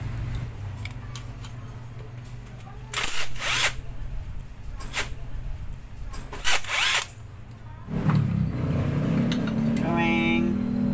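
A power tool whirs in short bursts while backing screws out of the center crankcase of a Honda Wave motorcycle engine, close by amid workshop noise, with a low rumble near the end.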